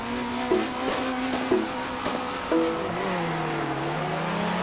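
Race car engines in the video game Circuit Superstars, a steady buzzing whine that shifts pitch as cars accelerate and brake, close and continuous with no talk.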